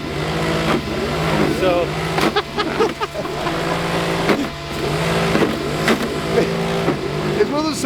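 A Land Rover's engine revs as it creeps onto traction boards laid in deep snow. The motor surges and falls in uneven bursts while people talk over it nearby.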